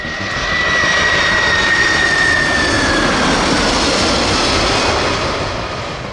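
A large jet airliner used as the US presidential aircraft, Air Force One, roars steadily and loudly alone, its broad engine rush swelling in and holding, with a thin whine sliding downward early on.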